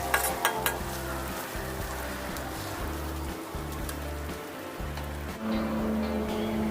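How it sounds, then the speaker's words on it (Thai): Garlic and shredded ginger fry in hot oil, a close, constant crackling sizzle that holds steady throughout with a low rumble beneath it. "เราจะเจียวกระเทียมกับขิงซอยจนหอมนะคะ"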